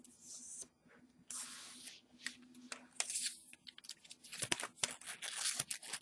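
Strips of paper are folded into small paper stars, giving close, crisp crinkles, rustles and sharp crackles in quick, irregular bursts with no talking.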